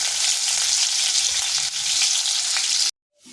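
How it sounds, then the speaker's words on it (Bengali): Cut potato pieces fry lightly in a hot pan for a bit under three seconds, a steady close sizzle with no talk, before it cuts off abruptly into near silence. "আলুটাকে হালকা একটু ভেজে নেব"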